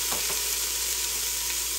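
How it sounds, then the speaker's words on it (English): Onion and carrot sauteing in oil over high heat for lobster bisque, giving a steady close hiss of frying with a couple of soft stirring scrapes near the start and no voices. "Let's go ahead and saute this for about 2 minutes."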